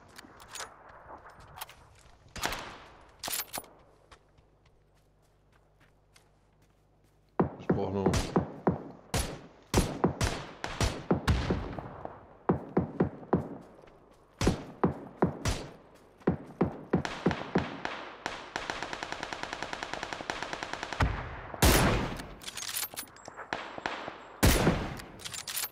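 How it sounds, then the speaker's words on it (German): Gunfire in the battle-royale video game PUBG: Battlegrounds: sharp, loud bursts of shots and single cracks in irregular clusters, with thuds and footsteps between them, under occasional talking. "Ich werde von hinten beschossen."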